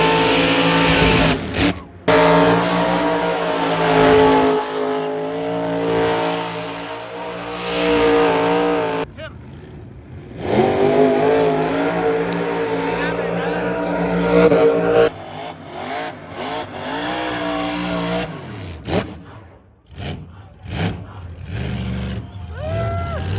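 Car revving hard and spinning its tires through smoky burnouts at the SEMA Horsepower Rodeo, a loud sustained engine roar with rising and falling revs, broken by brief pauses and crowd noise.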